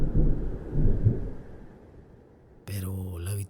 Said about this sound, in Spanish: Afuera estaba comenzando a llover.